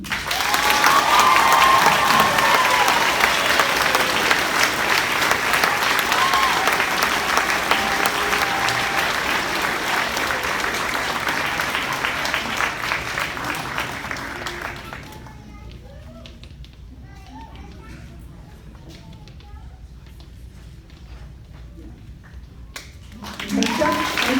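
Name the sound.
audience applause for band award winners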